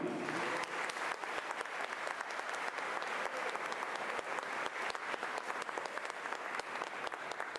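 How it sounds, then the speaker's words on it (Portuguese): Sustained applause from a crowd at a talk in Peruíbe, Brazil, dense and steady throughout, with individual claps crackling close by. "E eu os convido para fazer uma barca de salva de palmas para o James Carrion."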